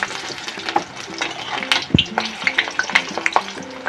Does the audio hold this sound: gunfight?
no